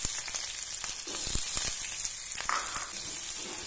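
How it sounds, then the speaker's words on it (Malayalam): Mustard seeds, dried red chilli, onion and curry leaves fry in hot oil for a lentil curry with ash gourd, giving a steady close sizzle with scattered crackles and pops throughout, no talking. "എണ്ണ ചൂടായപ്പോൾ നമ്മൾ അതിലേക്ക് കടുകിട്ട് കൊടുത്തു, വറ്റൽമുളക് ഇട്ട് കൊടുത്തു, ഉള്ളി ഇട്ട് കൊടുത്തു, കറിവേപ്പില ഇട്ട് കൊടുത്തു."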